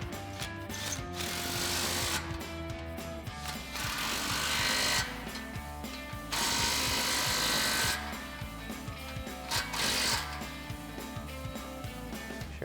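Impact wrench with a 15 mm socket tightening exhaust clamps on the slip joints of a Borla resonator-delete X-pipe on a 2015-2023 Mustang GT, in several loud buzzing bursts of a few seconds each with brief pauses between them.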